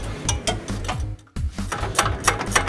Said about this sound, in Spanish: Vamos a utilizar una llave con matraca